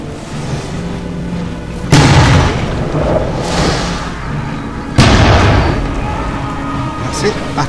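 Booming cannon-like shots in a Kaunitz Project play test tabletop game: two loud, broadband blasts about three seconds apart, each dying into a rumbling tail over steady background noise.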